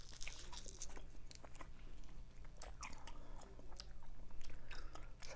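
Gum is chewed close to the microphone in a quiet ASMR setting, a soft, steady run of wet smacks and small crackling clicks repeating rapidly throughout.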